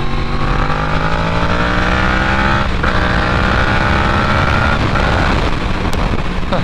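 A Yamaha R6 sport bike engine revs and pulls hard, a loud close whine that climbs in pitch, drops briefly at a shift and climbs again, with wind noise and no talking.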